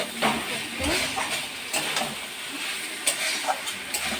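Spices and vegetables sautéing in oil in a pan, a steady close sizzle and hiss broken by scraping stirs and light clinks of a utensil against the pot.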